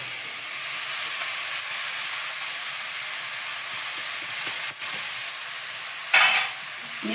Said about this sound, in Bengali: বেশ করে সব মশলার সঙ্গে ভাজা ভাজা করে নেবো